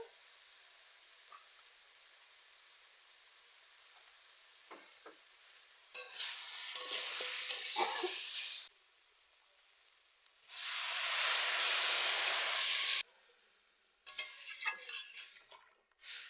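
Fish curry in a pan as turmeric and chili powder go in, giving bursts of stirring and frying sizzle that come and go in three loud spells with quieter gaps between.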